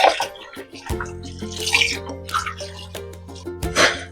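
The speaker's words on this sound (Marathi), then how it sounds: "तर एकदा त्याला आपण स्वच्छ पाण्याखाली धुवून घेऊया." Tap water runs and splashes while squid is washed under it, with uneven gushing and dripping bursts close by over a low steady hum.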